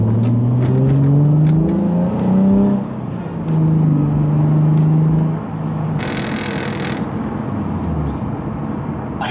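A Nissan 350Z pulls along a street, its engine rising through rev sweeps, easing off, then climbing again, loud and close, with a brief hiss and light rattles around the car.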